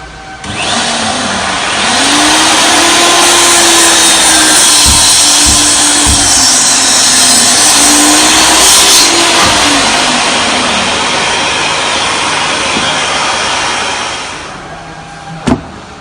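A portable circular mitre saw runs up loudly and cuts for over ten seconds with a steady whine that dips slightly under load, then spins down with a sharp click at the end.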